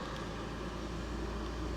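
A BMW E36 engine idles steadily after repair with junkyard parts, a low, even rumble with regular pulsing, held constant and moderately quiet throughout.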